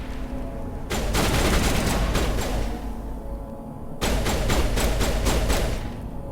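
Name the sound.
gunfire from the video game Mass Effect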